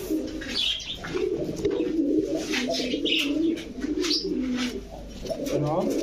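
Pigeons coo continuously in low, throaty murmurs, with occasional higher chirps and rustling mixed in, close and fairly loud.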